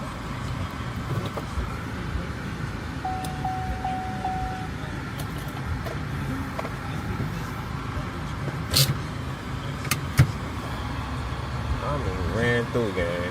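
A Ford Mustang Mach 1 engine idles roughly with a low, uneven rumble, its check engine light on, steady and close, with people talking over it and a few sharp clicks.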